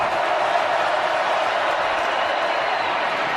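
Stadium crowd at a Georgia vs Missouri college football game in 2023, a steady dense roar of cheering that holds loud and even throughout with no break.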